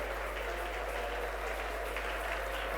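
A church congregation gives steady, dense applause that holds at an even level for the whole stretch, with a faint murmur of voices beneath it.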